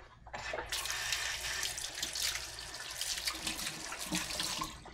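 Water runs steadily from a tap into a kitchen sink, a close, continuous splashing rush that starts abruptly and holds for several seconds.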